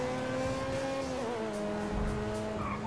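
An Audi R8 Twin Turbo sports car engine in the video game GTA 5 hums and drones steadily, its pitch shifting slightly as the revs change, loud and continuous with no talk over it.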